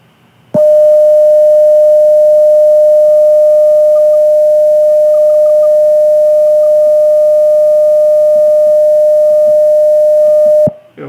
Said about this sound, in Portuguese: eu vou escutar um som contínuo, né? Sem interferência, uma mesma frequência